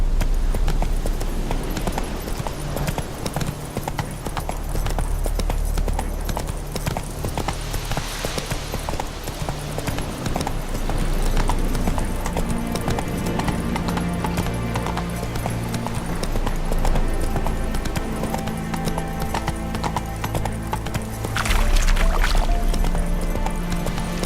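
Steady rhythmic hoofbeats of the horse Roach carrying the rider along a road in The Witcher 3 video game, a continuous close clip-clop cadence with faint game ambience and no talking.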